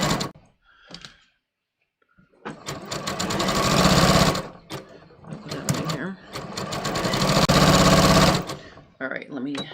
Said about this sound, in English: I needed the 4-thread safety stitch for the shorts